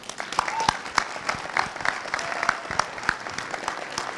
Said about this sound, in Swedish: Bara det är värt en applåd